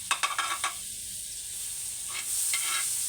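Margarine and olive oil hit a hot pan with a few sharp clatters of stirring, then a soft sizzle builds and hisses steadily at close range.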